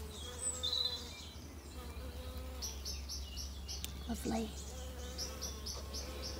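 Steady buzzing of bees close by on flowers in a graveyard in April, with birds chirping in the background and a brief spoken word.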